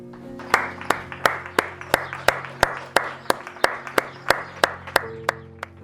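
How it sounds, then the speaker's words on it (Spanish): Regular sharp claps ring out roughly every third of a second from a balcony at eight in the evening, steady and fairly close, over a low sustained hum of background tones. "A las 8, voy a aplaudir."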